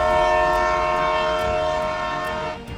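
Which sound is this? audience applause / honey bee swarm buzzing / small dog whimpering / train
train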